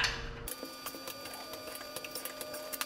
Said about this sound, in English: let's go ahead and torque down the caliper bolts